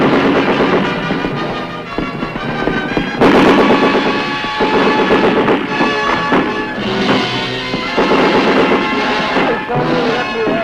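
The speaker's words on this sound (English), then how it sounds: "Progress is halted because of enemy mortar and automatic weapons fire." Combat in Vietnam: enemy mortar rounds and automatic weapons fire, loud irregular bursts and booming impacts overlapping densely across the whole stretch, with a sharp heavy blast about a third of the way in.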